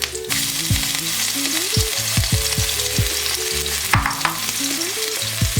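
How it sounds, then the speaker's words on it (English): Ginger and green onion fry in hot oil in a wok for steamed Chinese buns, making a loud, continuous close sizzle broken by repeated clanking spatula strokes. "Once the oil is hot, put into the ginger we prepared earlier and 1/3 of the green onion."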